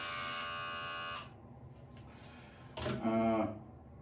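A Remington QuickCut Pro HC4300 hair clipper hums steadily close by, then switches off, followed by a brief quieter buzz and a louder short burst as it is restarted.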